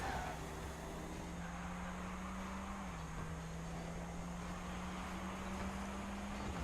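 Rocket League cars drive across the arena, a steady continuous engine drone with a sustained pitched hum that shifts slightly partway through, constant and even in level, no voices.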